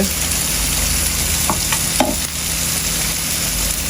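Spice paste sizzles steadily in oil in a pan for a fish curry with potatoes, a continuous close frying hiss broken by a few brief scrapes of a stirring spoon.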